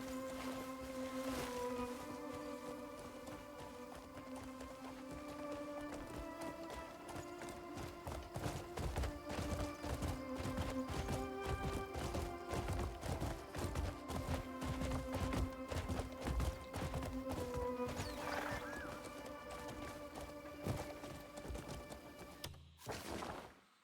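Horse hooves clip-clop in a steady walking rhythm in the Crimson Desert video game. The moderate, regular hoof beats sit under a layered game soundtrack with sustained tones, and no one speaks.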